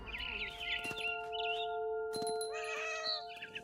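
A cat meows and caterwauls in the video game What Remains of Edith Finch, with a frightened bird chirping nearby and soft chimes, all fairly quiet.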